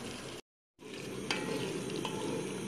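A spoon stirs a pot of simmering aubergine sauce, steady soft sizzling and bubbling with a short gap and a couple of faint scrapes, no voices.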